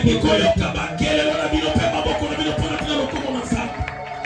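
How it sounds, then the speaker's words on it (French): Church congregation at a Sunday service cheering and clapping, a dense wash of rapid applause and shouting voices filling the room without pause. "Je vais écouter vos cris, vos applaudissements."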